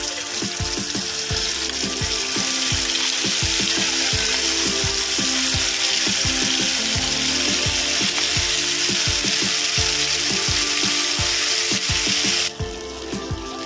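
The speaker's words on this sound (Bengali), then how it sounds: "আমি এই তেলের মধ্যে আদা লঙ্কা জিরের গুঁড়ো ধনের গুঁড়ো যে পেস্ট করে রেখেছি সেই মশলাটা দিয়ে দেবো" A paste of ginger, chili, cumin and coriander fries in hot oil with a loud, continuous close sizzle, peppered with crackling pops and spatters, which drops away abruptly just before the end.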